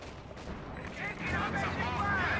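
Artillery and gunfire from a Company of Heroes 2 battle, muffled booms and crackling shots building in intensity, with someone talking over the combat.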